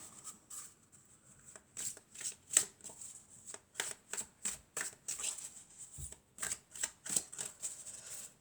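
Oracle cards being shuffled by hand in a quiet room, a series of short crisp riffling bursts in an uneven rhythm, close and fairly soft, with no speech.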